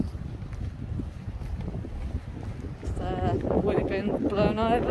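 Steady wind buffets the microphone with a low rumbling roar, and voices start talking over it partway through.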